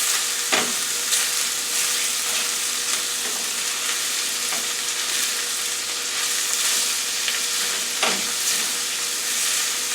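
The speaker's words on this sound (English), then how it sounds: "now I'm going to add the corn. And mix it all together" Corn is stirred into a shrimp baked potato filling, heard as a continuous bright hiss and sizzle with occasional scraping spoon strokes, close and steady, with no voices.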